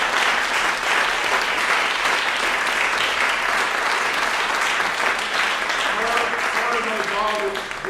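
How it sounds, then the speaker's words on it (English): Steady audience applause fills a keynote hall at a Dayton funk symposium, loud and continuous throughout, with a few voices faintly audible near the end. "give her a round of applause."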